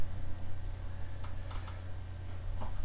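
Computer mouse clicking while items are dragged into a Business Objects Web Intelligence report, a few sharp close clicks scattered over a steady low hum, with no voices.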